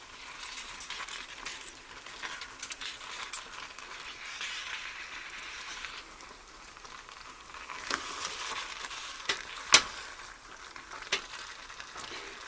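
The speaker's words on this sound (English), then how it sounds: "I'm going to stir this to get it all mixed together and have the rice totally heated through" Spoon stirring mushroom rice in a pan as it heats through, a quiet soft sizzle with scraping and a few sharper clicks near the end, no talking.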